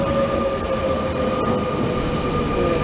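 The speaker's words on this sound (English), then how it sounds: "And here comes the blue train." A blue train on the Lisbon–Cascais line rolls past steadily and close, with a continuous rumble and wheel noise, a sustained whining tone and faint squeals, and no talk over it.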